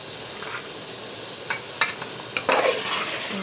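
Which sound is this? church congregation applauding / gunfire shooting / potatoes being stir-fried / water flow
potatoes being stir-fried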